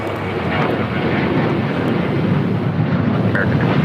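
A heavy Boeing 767 jet roars loud and close on short final into LAX runway 25 left, a broad continuous engine rumble with wind buffeting over the microphone.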